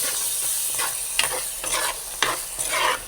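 Tamarind water poured into a sizzling curry in a pan and stirred, with a steady close sizzle broken by several sharp scraping stir strokes through the short stretch.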